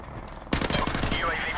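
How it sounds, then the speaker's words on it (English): Call of Duty Modern Warfare Remastered team deathmatch gameplay: a quiet stretch breaks into a rapid burst of close, loud automatic gunfire with crackling reports. The helicopter itself is not distinct. "Helicopter inbound."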